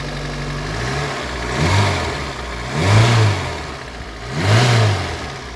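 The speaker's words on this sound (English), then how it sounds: "It's remarkable, really, that this abandoned little Corsa still starts." An abandoned Vauxhall Corsa engine idles and then revs up three times in rising and falling surges, loud and close with no talk.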